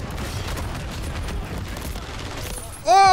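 Rapid explosive gunfire from the Stormender weapon in Call of Duty, a dense, continuous barrage of booms and blasts ending in a sharp, bright rising electronic tone.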